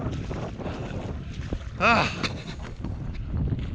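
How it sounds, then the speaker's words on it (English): Wind gusting on a walk beside Derwent Water, a constant rushing buffet across the microphone with a brief louder gust near the middle, under occasional faint voices. "That's going to be uncomfortable now, the wind's getting up."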